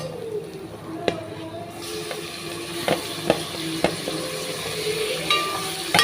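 Tomatoes fry in a pan for homemade egg gravy, giving a steady sizzle broken by sharp clinks and scrapes of a utensil, with a voice speaking at times.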